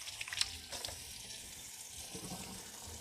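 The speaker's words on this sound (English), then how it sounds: "Gotta wash my hands." Tap water runs steadily over hands at a sink in a home kitchen, a soft continuous splash with a few brief louder spatters early on, close by and without talk.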